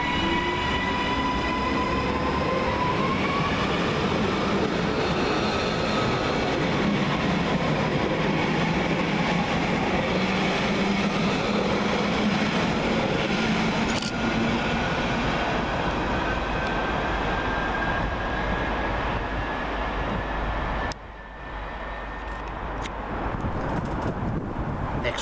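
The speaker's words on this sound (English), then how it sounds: "Depart with the 1529 Northern Rail service from Wigan North Western to Liverpool Lime Street." A Northern Rail class 319 electric train at Broad Green station, Liverpool, hums and rumbles steadily, a rising electric whine as it pulls away, with rail noise and faint voices in the background.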